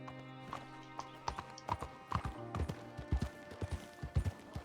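Horse hooves clip-clop in an uneven, ambling rhythm in Red Dead Redemption 2, fairly faint, with soft footfalls layered over a low steady tone and occasional small taps.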